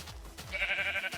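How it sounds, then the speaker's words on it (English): Pink sheep bleating in Minecraft, a single short wavering call after a brief quieter lead-in, fairly close and alone. "I found a pink sheep, nice."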